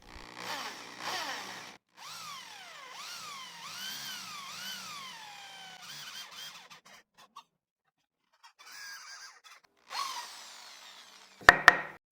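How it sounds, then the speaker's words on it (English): A hand drill with a 25mm Forstner bit whines into wood, its pitch rising and falling as it bites, then fades to quiet, followed by a few sharp knocks at the end. "I will drill with a hand drill and a 25mm Forstner bit"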